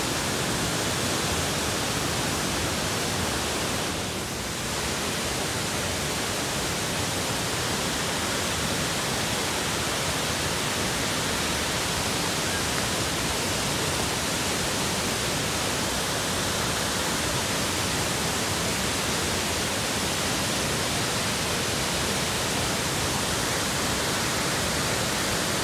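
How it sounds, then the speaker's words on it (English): A powerful waterfall roars steadily at close range, its dense broadband rush unbroken for the whole stretch, on a hiking trip near Interlaken, Switzerland. "It's a strong waterfall."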